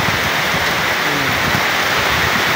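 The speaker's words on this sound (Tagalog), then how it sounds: "Yan ang ulan dito sa araw." Steady rain pours during a sunny spell in Biliran province, Philippines, a dense, even hiss of falling water close by with no break across the moment.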